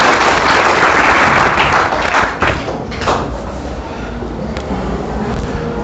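An audience at an inter college event in Zafarabad, Jaunpur breaks into loud, dense clapping that swells at first, then thins and fades into scattered claps.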